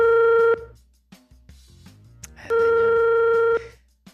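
A telephone call placed live on a radio morning show: two long steady ringback tones, each about a second, with faint clicks and low background murmur between them.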